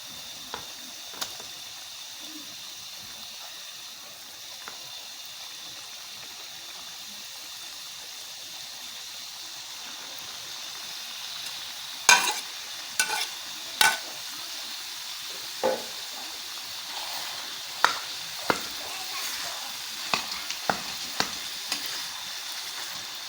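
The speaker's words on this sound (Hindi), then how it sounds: "अब हम मटन कीमा डालेंगे।" Mutton keema frying in a karahi for a Pakistani keema karahi, a steady close sizzle with bursts of scraping stirring strokes in the second half, no voices.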